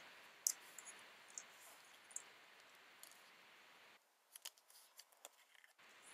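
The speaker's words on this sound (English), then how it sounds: "and then trim the excess paper off." Scissors snip the leftover paper from the edge of a watercolor-smooshed card panel, a few faint, close clicks and cuts scattered over a quiet room hiss, with a small burst of crisp snips near the end.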